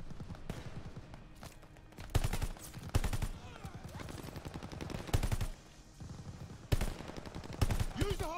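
Machine guns fire in Call of Duty: Vanguard, a World War II shooter battle, in sharp rapid bursts that alternate with pauses, loud and close, while soldiers shout orders between and over the gunfire.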